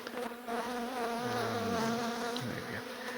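Honey bees buzzing close by while a beehive is relocated out of a garage wall, a continuous droning hum with shifting pitches as individual bees pass near, no voices.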